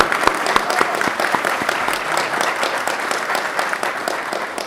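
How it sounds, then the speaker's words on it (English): Audience applause at a public safety bachelor's and master's diploma ceremony, honoring the instructors: dense, steady clapping from a large crowd that holds for the whole stretch with a few sharp individual claps standing out near the start. "Can we give our instructors a huge round of applause"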